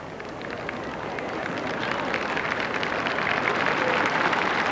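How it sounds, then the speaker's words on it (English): Warm applause from a large outdoor crowd of Portsmouth townspeople at a 1987 First Fleet re-enactment ceremony, a dense steady patter of many hands that builds slightly and holds through, with no talking over it. "Warm applause there from the people of Portsmouth."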